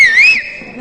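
A sharp, loud finger whistle from a person on a live TV show, a single shrill tone that rises slightly, then dips and fades out within a second.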